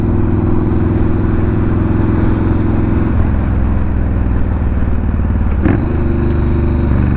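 Yamaha Warrior 1700 motorcycle V-twin engine idling close by, a loud steady throbbing rumble with a rapid pulsing beat, one brief blip near the end and no talk.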